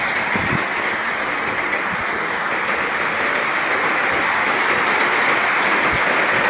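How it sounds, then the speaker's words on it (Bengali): Heavy monsoon rain pours down outside a house with a rooftop garden, a loud, unbroken broadband hiss and roar of the downpour that stays constant throughout. "দেখতে পাচ্ছ কিরকম প্রচন্ড জোরে বৃষ্টিটা হচ্ছে, মুষলধারে একদম বৃষ্টি হচ্ছে।"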